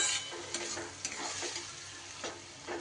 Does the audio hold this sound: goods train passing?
no